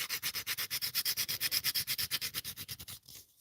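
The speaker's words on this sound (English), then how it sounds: "I'm going to sand the hood this way" Rapid, steady back-and-forth sanding strokes on the hood of a scale model Nissan Z, loud and close, about ten strokes per second for three seconds before stopping, with no talking.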